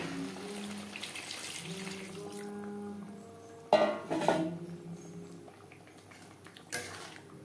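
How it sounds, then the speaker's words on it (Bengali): Water poured into a pan of simmering poa bhola fish jhal, a couple of splashing bursts near the middle over a steady low hum and faint tonal background. "এবার দিয়ে দেবো জল"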